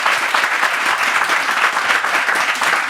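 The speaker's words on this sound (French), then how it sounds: "On peut s'applaudir bien fort." Dense, loud audience applause from a church gathering fills the whole moment as a steady, continuous wash of many hands clapping.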